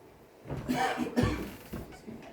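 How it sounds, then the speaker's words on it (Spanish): A couple of close, rough coughs in quick succession, with a quieter breathy sound after. "esta tos no me deja en paz"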